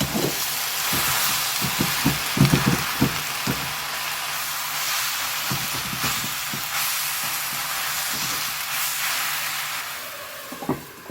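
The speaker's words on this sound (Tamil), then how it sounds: "கொஞ்சம் நேரம் வதங்கட்டும்" Plenty of onions sautéing in a frying pan for a murungai keerai egg poriyal, a steady close sizzle and hiss with scattered soft stirring taps, heard alone without talk.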